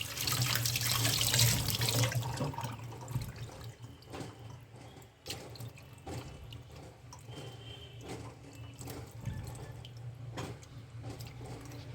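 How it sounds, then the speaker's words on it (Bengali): Fish being rinsed under a running kitchen tap at a sink, a steady gushing stream that is loudest in the first two seconds, then settles into continuous flow with small splashes and drips. "তো গান গাইতে গাইতে একটু মাছটা ধুয়ে নিই"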